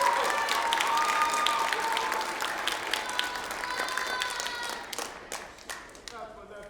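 Concert audience applauds a beginning school band, a dense burst of clapping that starts full and gradually thins out toward the end, with a few scattered claps lingering.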